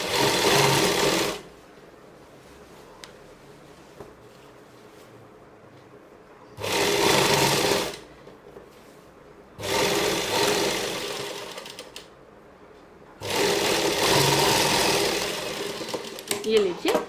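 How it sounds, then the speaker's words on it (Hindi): An electric sewing machine runs a rough basting seam along a comfortable pregnancy dress, buzzing in loud, steady bursts of a second or several seconds, separated by quieter pauses. "ये मैं पूरे में ही एक रफ सिलाई लगा रही हूँ।"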